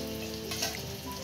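Marinated liver hitting a hot oiled tawa griddle, a brief, soft sizzle with a slight swell partway through over a low steady hum.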